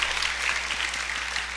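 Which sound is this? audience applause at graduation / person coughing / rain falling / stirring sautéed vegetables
audience applause at graduation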